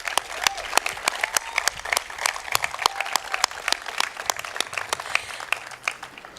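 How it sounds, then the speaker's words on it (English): Audience at a 2014 graduation ceremony applauds, steady crisp clapping from a moderate crowd with distinct individual claps standing out throughout, fairly close and continuous. "I'd like to give him another round of applause"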